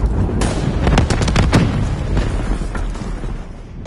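Hellstorm missile strike in Black Ops 3 multiplayer, a rapid cluster of loud sharp blasts and booms over dense battle noise, several impacts in quick succession then scattered lighter bangs.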